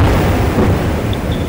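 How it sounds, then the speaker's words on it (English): A seismic survey compressed air gun fires underwater, giving a loud, deep, sustained rumbling blast that fills the whole clip. "it's basically a controlled explosion in the water as that compressed air expands and then contracts again and collides and makes a big bang."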